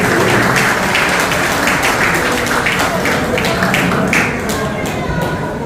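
Audience at a horse-racing trainers' association retirement ceremony gives warm applause, loud, dense clapping that carries steadily throughout and eases slightly near the end.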